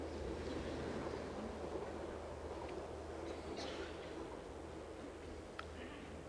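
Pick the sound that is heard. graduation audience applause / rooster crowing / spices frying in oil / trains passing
trains passing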